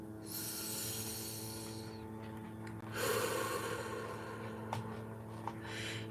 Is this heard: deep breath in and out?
yes